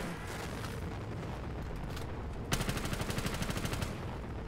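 Galear weapon firing repeatedly in a custom Black Ops 3 zombies map, a dense run of sharp blasts cutting in halfway through over loud, continuous game noise.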